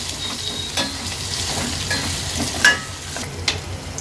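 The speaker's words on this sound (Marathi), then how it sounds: "गॅसची फ्लेम लो करून कांदा व्यवस्थित आपल्याला शिजवून घ्यायचा आहे" Onion fries on a low flame for Maharashtrian ambat dal, giving a steady close sizzle broken by a few scrapes and clanks as it is stirred, with no talking.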